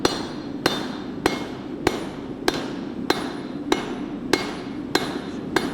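A hammer strikes a knife blade on an anvil during forging, nine sharp ringing blows at a steady, slightly uneven pace of roughly one per second, close and loud over a low background hum.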